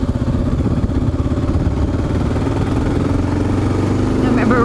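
A Kawasaki KLR 650 with Cogent suspension, ridden two-up by a rider and passenger, gives a steady mid-pitched engine drone under wind rush, loud and constant with no break.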